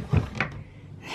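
A wooden drawer in a cluttered bedroom clothing dresser slides open with a brief thump and scrape, close and fairly loud, then quiet room tone.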